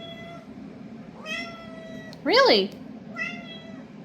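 A cat meows several times, one louder and clearer in the middle, with a person speaking briefly nearby.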